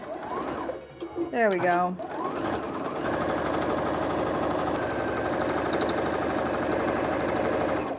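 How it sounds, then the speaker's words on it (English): A domestic sewing machine stitches dress fabric in a steady, fast mechanical whir that runs continuously after a brief spoken remark and a short pause at the start. "I'm just gonna keep sewing until this is 25 inches long, or 26 inches long"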